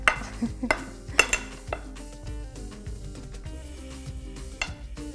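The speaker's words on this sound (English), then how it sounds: "now lastly, you're just gonna toss it all together" Salad ingredients tossed together in a bowl, with scattered clinks and scrapes of utensils against the dish, several sharp taps early on and softer rustling stirs after, close and moderately quiet.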